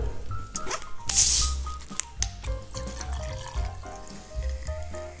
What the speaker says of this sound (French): Tu complètes à la ginger beer.